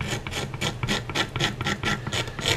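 Scraper dragged over the wood of a Fender Mustang guitar neck to thin it, a rhythmic rasping in quick strokes, close and fairly quiet, with no voices.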